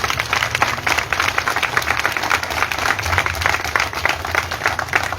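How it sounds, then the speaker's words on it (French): A union gathering in Chad breaks into sustained applause for a returning comrade, many hands clapping in a dense, even roar that holds steady throughout. "Je demande à ce que tout le monde applaudisse au moins pour 1 minute pour le camarade SG."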